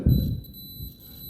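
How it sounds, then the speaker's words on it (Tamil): A multimeter in continuity mode gives a steady high-pitched beep as its probe touches a phone battery terminal, a thin constant tone over a low thump of handling, close and faint. "உங்களுக்கு மல்டிமீட்டரில் பீப் சவுண்டு வருது"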